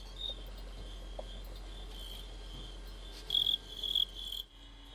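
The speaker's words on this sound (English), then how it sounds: "And crickets have dignity too. They only sing when they win a fight." Fighting crickets chirp steadily in a high, continuous trill, with a louder, more insistent burst of chirping near the end; no voices present.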